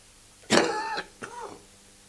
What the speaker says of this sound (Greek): Συγγνώμη για τον βήχα